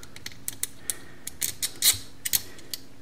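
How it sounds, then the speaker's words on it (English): Small metal washer slipped onto a bolt on a homemade self-leveling camera mount, heard as a scatter of faint, close, light metallic clicks and ticks, with no talk. "Put another washer on"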